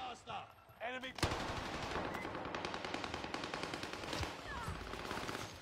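An airstrike in an online shooter video game erupts as a dense, sustained barrage of rapid blasts and gunfire after a quieter opening second, loud and continuous to the end.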